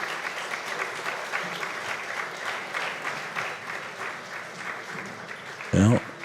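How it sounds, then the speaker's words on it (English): Audience applause in the arena at the U.S. Open 9-Ball Championship pool tournament; steady, moderate clapping runs throughout, with a brief low thump near the end. "The applause is for Corey Dool"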